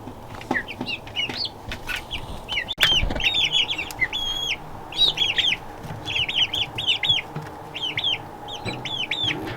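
25-day-old chicks peep and chirp repeatedly in short bursts, with soft clucks and light rustling close by.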